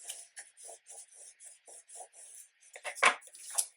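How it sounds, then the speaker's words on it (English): A bone folder burnishing paper for a card box: a series of short, even rubbing strokes close up, then a few harder, louder scrapes at the end. "reach in and burnish my bone folder, flip it, and adjust there real quick before I burnish."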